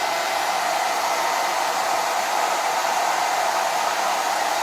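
A steady, loud whoosh from a blow dryer running nearby without pause, drying the centers of something. The broadband airflow roar stays even for the whole stretch, with no voices.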